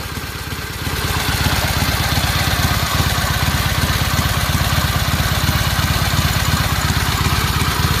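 A 1925 Harley-Davidson JD with a 1200cc three-speed V-twin idles close by, a loud, steady, lumpy low thumping that settles into an even rhythm after the first second, with no talk.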